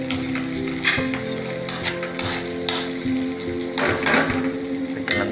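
Egg frying in a pan while being stirred, a steady close sizzle running throughout with intermittent scraping and stirring strokes, no voices.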